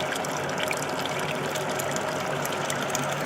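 Pumped wort-brewing water splashes back into a mash tun on a home HERMS brewing rig, a steady, dense rushing and spattering that runs unbroken and close for the whole stretch.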